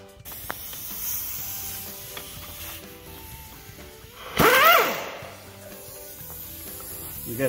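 Impact wrench removing a bolt near the hydraulic coupler on a Massey Ferguson MF 165 tractor during brake repair, a single loud rattling burst of about half a second over quiet shop background.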